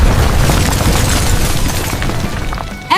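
A final explosion in a car crash video game goes off as a loud, sustained rumbling boom, filling the whole moment before cutting off abruptly.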